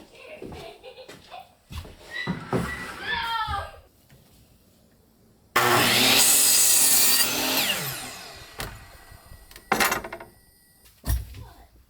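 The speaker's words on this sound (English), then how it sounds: "I guess we'll get our first piece cut and see how it goes." A saw cuts a wood ceiling board in one loud, raspy run lasting a few seconds, with people talking before it and a few knocks after.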